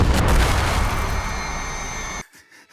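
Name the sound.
mortar strike explosion in a video game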